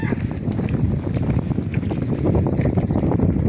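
A boat's large B8 marine engine runs steadily on a sea trial, a dense low rumble throughout with wind buffeting the microphone.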